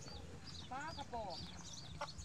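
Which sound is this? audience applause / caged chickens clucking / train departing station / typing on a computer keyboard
caged chickens clucking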